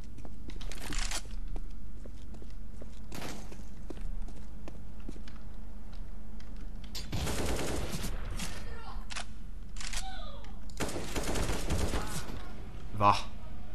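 Gunfire in the video game Counter-Strike: Global Offensive: several bursts of rapid shots, some near and loud and some more distant, broken by quieter gaps against a low steady game hum.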